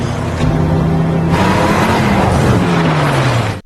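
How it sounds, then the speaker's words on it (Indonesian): A car speeds past loud and close with a sustained engine roar and a falling pitch, ending in a crash-like burst before it cuts off; the scene comes from a Punisher film. "mobil John melesat dengan kencang dan menabrak mereka berdua"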